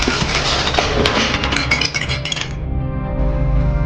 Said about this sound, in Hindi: किचन से कुछ बर्तनों की गिरने की आवाज आती है